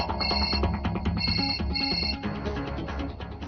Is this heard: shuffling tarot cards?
no